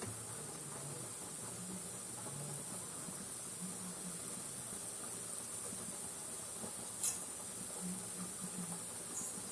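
A pot of rasam simmers with a soft, continuous hiss and faint bubbling, steady and close, with no talking.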